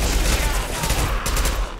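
Dense, continuous gunfire in the Mass Effect 2 video game, a loud volley of overlapping shots with no gaps.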